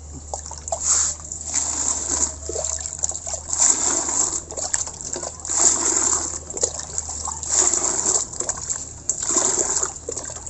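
Water trickles and splashes into pig feed of gestation feeds and rice bran being mixed, a soft uneven pouring and sloshing that continues in waves over a steady low hum.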